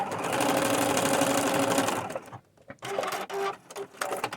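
A sewing machine runs in a close, loud, fast buzzing burst while stitching down an upcycled fabric fairy skirt, then stops abruptly and leaves a few softer stop-and-start stitch bursts and handling noises.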